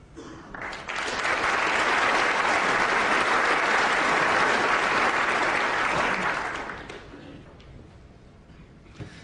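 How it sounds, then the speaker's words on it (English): Snooker audience at the 2006 Grand Prix final applauding between shots: clapping swells quickly, holds steady for several seconds, then fades to a quiet room with a few stray claps. "Encouraging applause from an audience"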